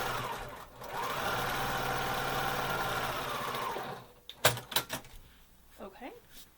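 A sewing machine runs steadily for about three seconds, stitching quilt block seams slowly, then stops, followed by a few sharp clicks and handling noises.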